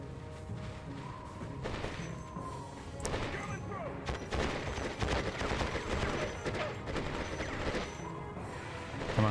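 Gunfire and explosions in the video game Conflict: Desert Storm on the SCUD Alley mission, with dense rattling bursts and booming impacts running throughout, mixed with other in-game clatter.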